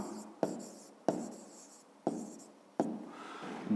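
A pen writes on paper in a maths exercise, four distinct taps and scratchy strokes spaced about a second apart, each one fading quickly, with no voice heard.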